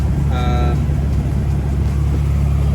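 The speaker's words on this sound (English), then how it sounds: "Motor's obviously running." A Ferrari 360 engine idling after major service reassembly of the valve covers, intake manifold and cooling system: a steady, loud, even drone throughout, with a brief voice near the start.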